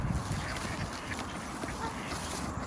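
Ducks quack over and over while being fed seed, cereal and bread alongside other birds, a loud, steady noisy chatter with no talking.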